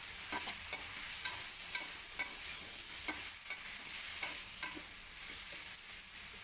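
Okra and fish fry in a wok, a steady bright sizzle with the scrape of a spatula stirring at irregular intervals throughout.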